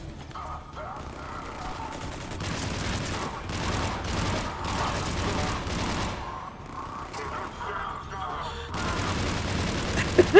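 Gunfire in Mass Effect Legendary Edition, shots fired blindly in a steady stream of bursts and booms across the whole stretch, mixed with game sounds and a voice talking over it.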